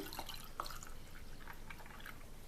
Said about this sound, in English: So we're going to go ahead and we're going to pour that in.